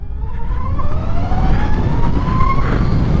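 A 2021 Harley-Davidson LiveWire electric motorcycle is ridden, with a thin motor whine that rises steadily in pitch over loud, close wind rumble.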